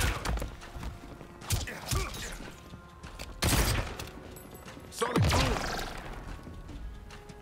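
Gunfire in the action RPG Last Epoch, a few heavy shots and impacts spaced across several seconds over a busy game soundscape, with crashing and thudding hits mixed in.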